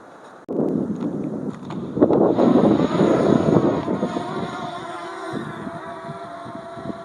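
A camera drone's buzzing motor whine starts abruptly and holds steady, with gusty rumble of strong wind buffeting the microphone throughout.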